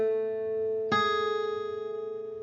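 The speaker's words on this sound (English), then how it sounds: "So a major seventh, you can use the fingering you see on the screen there," Guitar sounding a major seventh interval: a sustained note rings alone, then a second string is struck near the one-second mark and both notes ring together, slowly decaying with a gentle beating shimmer.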